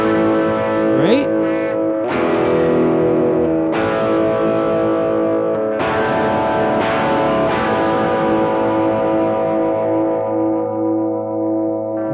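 Cheap electric guitar, a Donner or Glarry, played through an inexpensive amp with a crunchy, gritty tone, several strummed chords and ringing notes left to sustain, close and fairly loud with no talk.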